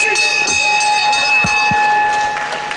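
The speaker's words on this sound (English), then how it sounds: "And the bell did save him just." A round bell at a professional wrestling bout in the packed Fairfield Halls, Croydon, rings with a steady, sustained metallic tone over a low murmur of crowd noise and a few thumps from the ring.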